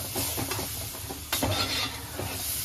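Tomato and green masala paste is poured into hot oil, setting off a loud, dense sizzle and hiss with a sudden surge partway through and some stirring scrapes.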